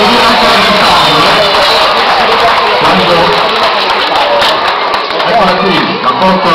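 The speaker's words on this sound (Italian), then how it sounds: "Un bel applauso per Maria Luisa, forti!" A crowd at a Christmas shop-window contest award ceremony gives a loud, continuous ovation for a prize winner. Dense applause with scattered cheers and whoops stays steady throughout, up close.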